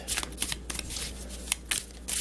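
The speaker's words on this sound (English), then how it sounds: "So I'm just going to finish shuffling here" Tarot cards riffle and slap together in quick, uneven bursts as the deck is shuffled by hand, close up with no talking.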